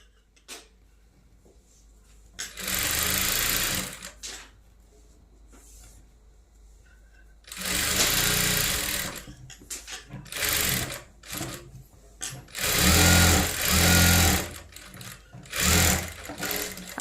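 A sewing machine stitches a lined blouse in bursts of loud, close, rapid clatter separated by quiet pauses, with soft handling noises between runs.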